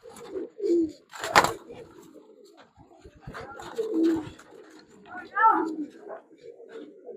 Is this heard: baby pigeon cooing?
yes